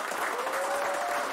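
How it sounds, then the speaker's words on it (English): A game show studio audience applauds a new contestant: a brief, dense burst of clapping that stays steady and fairly loud across the short moment. "let's give a round of applause to welcome to our new"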